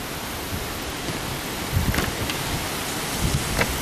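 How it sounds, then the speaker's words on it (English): Strong wind blowing outdoors, a constant loud broadband roar with occasional heavier gusts buffeting close by, no talking. "Man, it is windy today."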